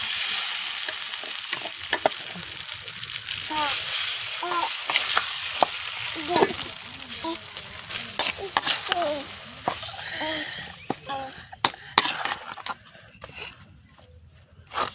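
Ground thuvayal chutney frying in a pan with a mustard seed and curry leaf tempering: continuous sizzling with scraping stirs and sharp spatters, fairly close and clear, fading toward the end.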